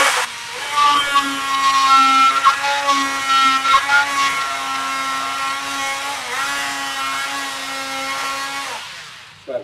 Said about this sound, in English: Cut out half the thickness of the board.